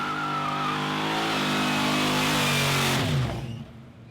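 A car engine hums steadily while cruising on a highway at night, a loud sustained drone with harmonic tones that climb in pitch, then drop and fade as the engine eases off near the end.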